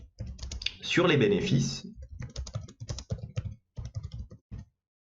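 Rapid, irregular clicks of a computer keyboard as someone types in an Excel spreadsheet, a dense burst early on, then steady close-up keystrokes under a person speaking French.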